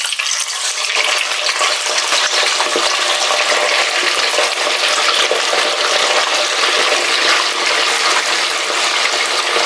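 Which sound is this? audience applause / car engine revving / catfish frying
catfish frying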